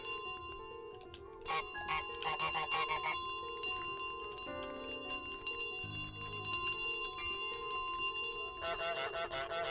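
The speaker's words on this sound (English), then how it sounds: "Look, I'm checking the bell." A bicycle bell rings in Untitled Goose Game, its bright metallic dings repeating over steady, continuous game music, fairly close and clear with no talking.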